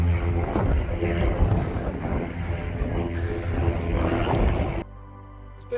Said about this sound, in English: That is a Spitfire, ladies and gentlemen.